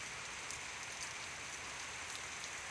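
Rain falls steadily as a dense, even hiss with scattered drop patters, faint and continuous, with no voices.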